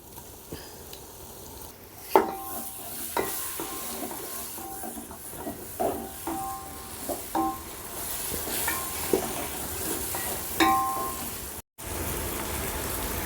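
Ginger garlic paste frying in a pot for seeraga samba chicken biryani, a soft steady sizzle punctuated by irregular metallic clinks and scrapes as the spoon stirs against the pot.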